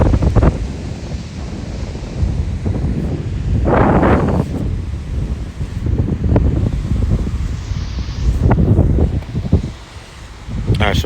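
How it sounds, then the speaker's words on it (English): Strong gusty wind buffets the microphone in loud, rumbling surges, with surf-like roar rising and falling throughout. "It's never this windy ever."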